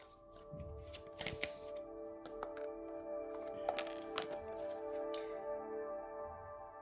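Tarot cards being shuffled close up, a run of soft riffling and flicking with a few sharper snaps, quiet and steady with no voice over it.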